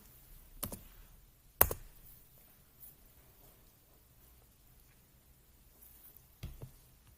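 A few sharp, sparse mouse clicks in a quiet room, two near the start and a couple more toward the end.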